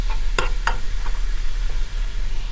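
Oxtail ragu with wine simmers and reduces in a pan, a steady soft sizzle with a few brief clinks or scrapes of stirring near the start, no voices.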